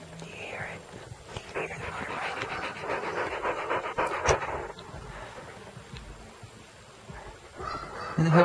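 An Australian Shepherd dog pants close by in quick, steady, breathy rhythm lasting several seconds, with a faint voice near the end.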